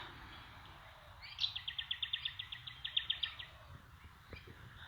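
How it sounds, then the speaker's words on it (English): A bird sings a rapid series of bright, evenly spaced chirps, a trill of about fifteen notes lasting two seconds, fairly faint against quiet background with a couple of soft knocks after. "The birds here have been singing all morning with their song."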